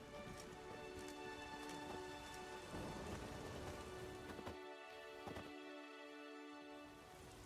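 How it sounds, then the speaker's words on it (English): Steady rain falling in the video game The Witcher 3: Wild Hunt, a faint, continuous patter with a low rumble that thins toward the end, mixed with soft tonal game ambience. "There's no point standing here in the rain."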